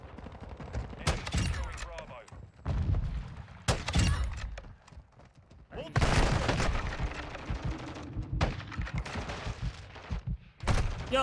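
Rapid bursts of automatic gunfire in a tuned-SAB loadout shooter game, loud and near, coming in dense volleys separated by brief lulls, with a voice talking at moments between the shots.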